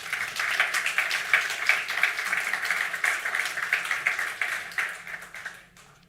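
Audience clapping at a stakeholder roadshow, a dense and lively burst of hands with a loose pulsing rhythm that carries on for about five seconds before fading quickly to quiet.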